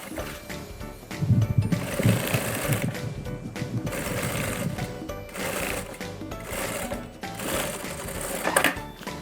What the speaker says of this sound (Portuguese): Alinha bem certinho e passa outra costurinha pé de máquina